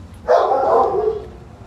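A shelter basset hound gives a single loud, drawn-out bark-howl lasting about a second, close by, with no talking.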